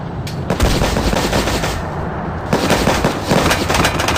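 Heavy gunfire from the Tank Legion video game, with repeated loud cannon and gun blasts crowding the whole stretch and a short lull near the middle before the firing resumes.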